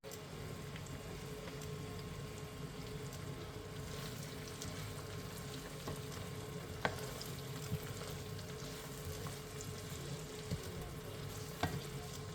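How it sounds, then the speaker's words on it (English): Onions cook slowly in oil for a chicken curry, making a soft, low sizzle with occasional clicks and light stirring scrapes, fairly quiet and steady, with no voices. "slowly cook these in that oil just until they're translucent and softened"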